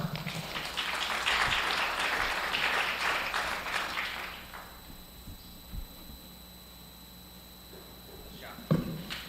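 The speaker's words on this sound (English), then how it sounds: "Let's give these kids one more big round of applause." Crowd at a county fair junior goat show applauding the young showmen, a few seconds of moderate clapping that fades out, leaving a quiet hum of the arena with a couple of faint thumps.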